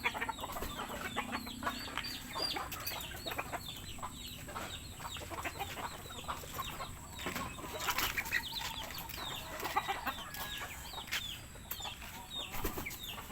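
Faint clucks from a spangle gamecock and scattered bird calls over a constant outdoor hiss, with occasional rustles and a brief flutter of wings.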